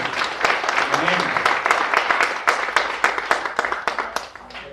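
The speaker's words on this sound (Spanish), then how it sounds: "dar un aplauso a nuestro Señor" Church congregation applauding during a Spanish-language sermon, a dense wash of clapping that thins into scattered individual claps toward the end, with voices mixed in.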